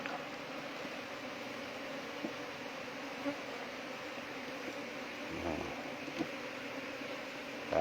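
Bees buzzing steadily around their nest, a dense continuous drone close by with a few soft thumps and rustles, no voices.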